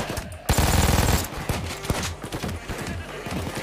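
A light machine gun fires a rapid sustained burst in the video game Payday 2, followed by scattered game sounds and thuds.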